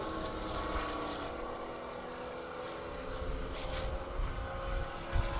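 A Jeep Trackhawk drag racing down a half-mile airport strip in Indiana, a distant sustained engine roar with a hissing whoosh of wind and road noise, steady and fairly faint.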